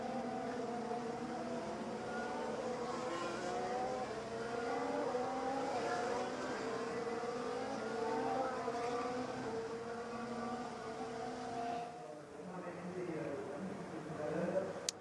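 Formula 1 race cars at the 2019 Belgian Grand Prix give off a continuous, layered engine whine whose pitch rises and falls as they race. Commentary voices run over the engines throughout.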